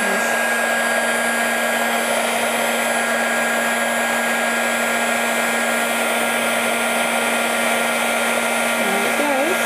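Heat gun blowing to puff embossing paint on a Christmas window card, a loud, steady whirring hiss with a constant hum, unbroken for the whole stretch.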